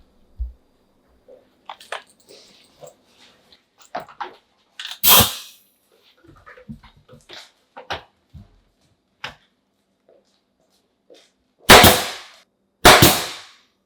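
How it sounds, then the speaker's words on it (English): A modified nail gun with its safety taped off fires nails during a kitchen remodel. A few sharp, loud cracks stand out among small clicks and handling knocks. "So I had to tape the safety off so that I can actually get something to fire."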